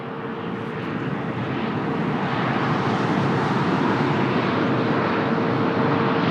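Embraer 190 airliner arriving from Marrakesh at Lisbon Airport, a steady, fairly close engine roar with a constant tonal hum that builds slightly and holds, no talking.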